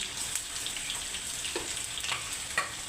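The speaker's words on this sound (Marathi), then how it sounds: "जिरे चांगले क्रॅकल झाले ही आलं लसणाची ही जाड वाटलेली अशी मी पेस्ट यामध्ये टाकून घेतली" Ginger-garlic paste sizzles with cumin seeds in hot oil for a dhaba-style cashew kurma, a steady soft frying hiss with a few light pops, fairly quiet, with no talking.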